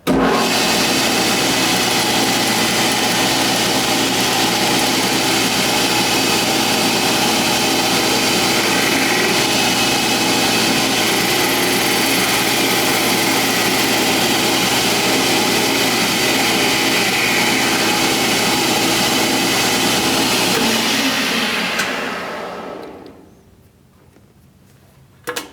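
Metal lathe running at about 1200 RPM while a hand-ground high-speed steel tool faces the end of a steel spacer, a loud steady whine and motor drone that winds down and stops near the end.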